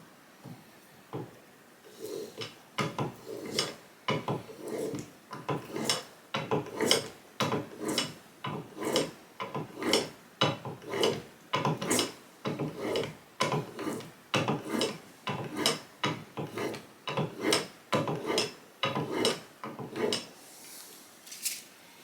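A chisel is being sharpened on 7000 grit wet and dry paper: steady, rhythmic back-and-forth rasping strokes, about one per second, close and clear with no talking.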